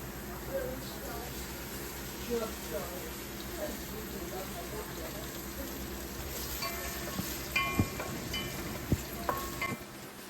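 Onions sizzle in a hot pan with occasional stirring clinks, while a person talks intermittently over the steady frying.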